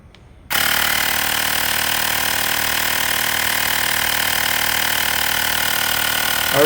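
Xiaomi portable air compressor pumping a tire toward 80 psi, switching on abruptly after a brief quiet moment and then running as a steady, close, high-pitched mechanical buzz with a constant drone, no talking.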